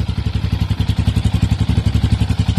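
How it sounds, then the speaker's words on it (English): A Yamaha Raptor 700 quad, a 700cc fuel-injected four-stroke special edition, idles close by with a loud, steady, rapid thumping pulse and rattly clatter, alone without talk. "We'll give you a listen to the engine."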